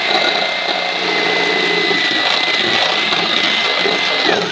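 Electric hand mixer whipping hot sugar syrup for a milk-free whipped cream substitute, a steady close motor whine that runs unbroken the whole time with no talk.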